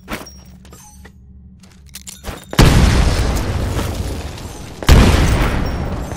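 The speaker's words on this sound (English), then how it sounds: "Throw a grenade into each of the windows." Explosions from grenades thrown into windows during a Titanfall combat tutorial: two loud, full booms, the first near 2.6 s rolling on for about two seconds before a second blast hits near 4.9 s, after quieter ambient clicks and game noise.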